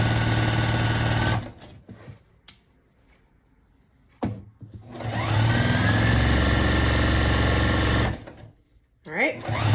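A sewing machine stitches the border of a rag quilt in two long, loud, steady bursts of motor whir and needle clatter, separated by quiet pauses with brief handling noises.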